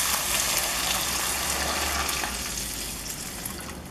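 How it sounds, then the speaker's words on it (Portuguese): One liter of water pours into a cooking pan of sautéed ingredients, a loud, continuous rushing gush with steady hiss that slowly tapers, close up and without speech. "Nesse ponto eu vou acrescentar 1 litro de água."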